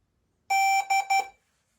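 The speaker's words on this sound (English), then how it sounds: "Press long until it starts beeping." A DJI Air 3 drone in pairing mode sounds a bright electronic tone once for a longer stretch, then two short beeps in quick succession, clear and close with nothing else around.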